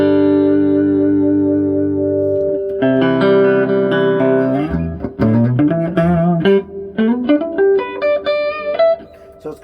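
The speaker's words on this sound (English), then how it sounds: "It's got a real nice reverb to it. It's only on 3 right now." Electric guitar played through a Princeton Reverb amp with the reverb set to 3, clean just short of breakup: a sustained chord rings out, then a run of picked single notes and chords with a bouncy reverb tail, loud and close.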